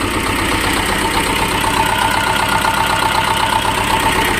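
A T-25 tractor engine running at raised revs, a loud close steady mechanical clatter that holds evenly throughout.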